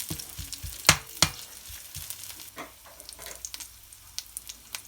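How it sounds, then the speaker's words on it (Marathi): Garlic frying in hot oil as a tempering for Malvani fish curry, a soft steady sizzle with a few sharp spits and pops early on and light stirring clinks. "आता आपली फोडणी गरम झालेली आहे, चांगली तापलेली आहे ती, आणि लसूण सुद्धा छान असे आतमध्ये फ्राय झाले।"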